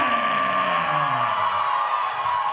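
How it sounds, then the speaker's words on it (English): A red-hot wrestling crowd roars and whoops for OVW Media Champion Dustin Jackson at a live OVW TV event, a loud, sustained wall of cheering with no break. "Listen to this red-hot crowd, Josh."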